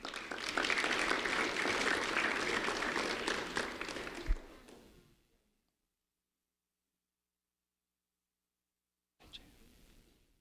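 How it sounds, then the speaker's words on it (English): An audience at an award ceremony applauds a recipient, a dense, even wash of clapping that holds for several seconds, then fades into silence, with a faint stir of sound returning at the end. "Jehu Suarez, a round of applause for Jehu Suarez,"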